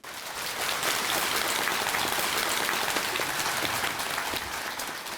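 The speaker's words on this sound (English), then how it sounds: "please join me in giving sincere and warm applause to welcome Khenpo Sodargye Rinpoche" Warm, sustained applause from a large audience of teachers and students at Peking University's School of Education welcoming a speaker, a dense rain-like roar of clapping that rises quickly and holds steady throughout.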